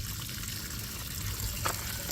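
Water trickles and dribbles steadily from a 90 HP Evinrude outboard motor under repair, a close, continuous liquid patter with a faint low hum beneath and no talking.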